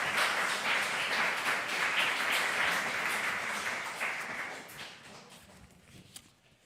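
A church congregation at a Korean Sunday service in Madrid claps to welcome a visitor. The applause is full and sustained at first, then gradually thins and fades to a few scattered claps.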